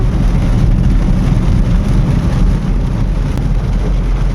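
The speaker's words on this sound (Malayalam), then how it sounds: "പൊളി മഴ തുടങ്ങിയിട്ട് ഇപ്പൊ ഏകദേശം ഒരു അരമണിക്കൂർ ആവാനായി ഇതുവരെ മഴ കുറഞ്ഞില്ല നല്ല ശക്തിയായിട്ട് പെയ്തുകൊണ്ടിരിക്കുക" Heavy rain drums on a moving car during a road trip from Ernakulam to Kannur, a loud continuous roar with deep road rumble inside the cabin and no talking.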